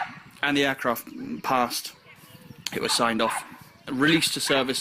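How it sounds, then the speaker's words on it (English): A dog barks intermittently in the background while someone talks steadily in the foreground, the yaps partly masked by his voice. "There's a dog barking in the background."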